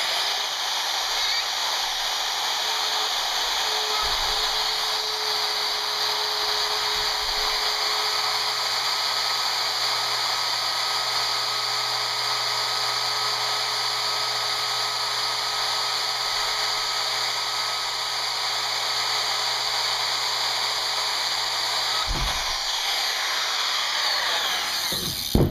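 A power tool bit cuts steadily through the workpiece with a loud, continuous high-pitched whine, held alone for about 25 seconds with a brief change in load near the end.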